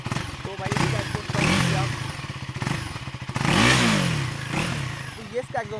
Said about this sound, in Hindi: ये इसका एग्जॉस्ट साउंड था।